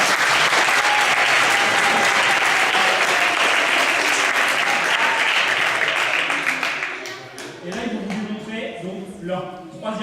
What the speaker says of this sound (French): Donc on peut les applaudir pour ça.